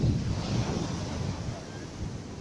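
Ocean surf rolls at Buyutan beach in a steady, close wash, with wind buffeting the microphone throughout and no talking.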